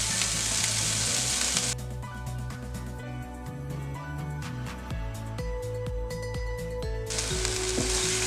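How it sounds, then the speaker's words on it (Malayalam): Rice tipped into a hot frying pan sizzles loudly and close, a steady crackling hiss that dips and gurgles while being stirred, then surges bright again near the end, no talking. "ഇനി നമ്മൾ റൈസ് ഇട്ട് കൊടുക്കുകയാണ്."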